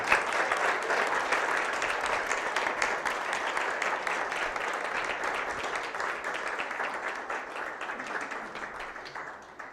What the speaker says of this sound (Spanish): Dale otro aplauso a Dios en esta hora, dáselo fuerte, dáselo fuerte.